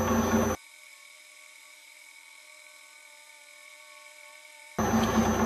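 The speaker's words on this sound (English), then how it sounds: "The whole lathe is shaking a little bit just from that little bit of imbalance." An Acraturn lathe runs with a slight imbalance that makes it shake, giving off a steady, faint whining hum with bursts of louder, harsher noise at the start and end.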